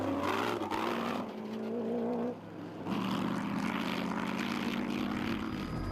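A helicopter over an off-road desert race drones loudly close by, its engine pitch wavering and dipping briefly before the heavy whirring resumes.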